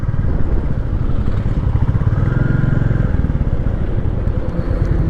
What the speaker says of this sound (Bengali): হ্যাঁ রয়েল এনফিল্ড দুক দুক দুক দুক সাউন্ড